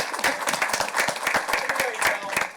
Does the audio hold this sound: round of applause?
yes